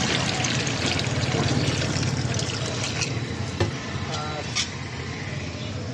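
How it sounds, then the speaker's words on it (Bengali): Water poured into a pot of jackfruit seasoned with salt, turmeric and chilli powder, a continuous splashing trickle with a few clinks toward the end. "সামান্য পরিমাণ জল দিয়ে দেবো"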